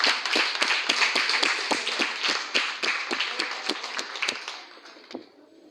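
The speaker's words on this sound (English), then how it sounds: "A round of applause for our principal." Applause from a small audience at Rio Bueno Primary School for the principal, sharp distinct claps close by that thin out and fade over several seconds.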